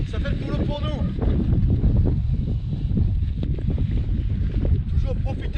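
Strong wind rushes and buffets the microphone at a mountain campsite, a continuous loud roar with a person talking briefly over it.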